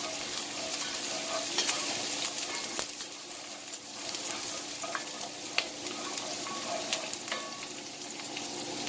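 Bulgogi frying in a hot pan for kimchi fried rice, a continuous dense sizzle with scattered clinks and stirring scrapes, close and steady with no talking.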